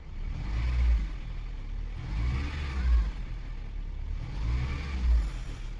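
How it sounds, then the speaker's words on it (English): A car engine, under test with a swapped oxygen sensor, revs up three times in slow, even swells as the gas pedal is pressed and released, close and fairly loud, with no talking. "Press the gas."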